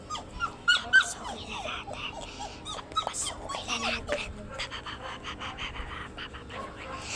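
A dog pants rapidly and whimpers in high, thin cries close by, the whines bunched at the start and breaths continuing steadily, with faint human voices in the background.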